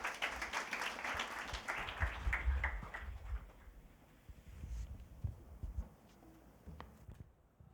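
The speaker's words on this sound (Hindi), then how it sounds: "आइए हम ताली बजाकर जो है उनका स्वागत कर सकते हैं।" A church congregation claps to welcome a speaker, a faint, fairly brief burst of hand claps that thins out and fades into low room noise.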